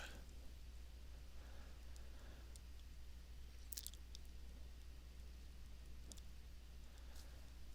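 Soft, close chewing and squishy mouth sounds as crawdads with rice and gravy are eaten, quiet and intermittent over a low steady background hum, with a few sharper clicks of utensils or teeth.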